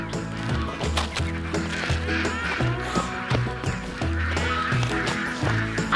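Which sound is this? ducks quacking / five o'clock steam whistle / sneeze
ducks quacking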